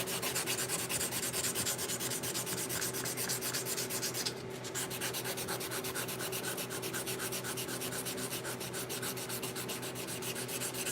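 Hand sanding with 180 grit sandpaper in a shop, a fast, even back-and-forth rasping scrub heard close and continuous, with one brief pause partway through before the strokes resume at the same rhythm; no one speaks.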